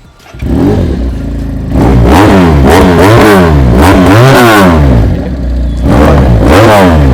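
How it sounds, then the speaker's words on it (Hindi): A 400cc motorcycle engine with an aftermarket exhaust revs hard in repeated rising and falling bursts, deep and throaty, very loud and close, with no talking. "ये इसका साउंड है"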